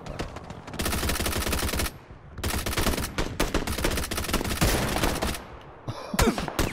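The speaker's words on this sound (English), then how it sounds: "I'm taking fire." Gunfire in the battle-royale game PUBG: rapid bursts of shots crack out in dense volleys, broken by a brief lull, then resume loud and close before tapering off.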